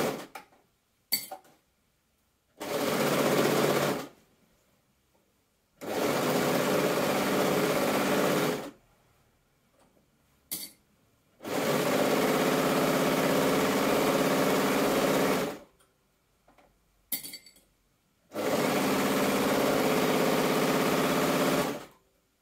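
A sewing machine stitches through layers of stretch fabric for a dragon cosplay dress, running in four long steady bursts separated by pauses and a few short clicks, close and loud with no talking.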